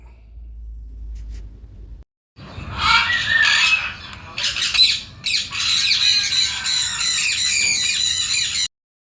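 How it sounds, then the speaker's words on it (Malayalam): Red golden pheasant at the Al Wakra mini zoo in Qatar giving loud, harsh squawking calls in repeated bursts, close by, starting after a brief quiet moment. "ഇതിൻ്റെ പേരാണ് റെഡ് ഗോൾഡ് പെസൻറ്റ്"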